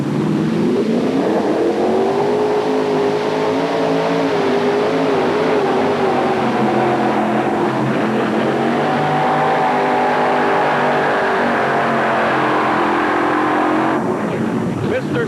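A pulling tractor powered by an Allison aircraft engine roaring down the track at a 1991 NTPA tractor pull in Canfield, Ohio, a loud sustained engine drone with shifting pitch that runs about fourteen seconds, with an announcer talking over it.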